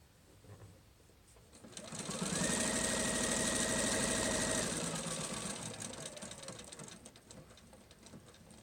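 Sewing machine stitching fabric with a steady mechanical whir that swells to full speed for several seconds, then slows and tapers off, heard alone without talk.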